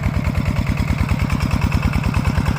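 A water pump engine at a corn farm chugs loudly and steadily, its low rhythmic pulses repeating evenly without pause.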